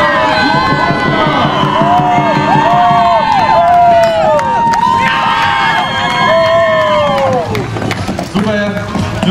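A lively crowd cheers and shouts at a long-distance dragon boat championship in Rostock, with loud voices overlapping and a commentator talking over the excited noise.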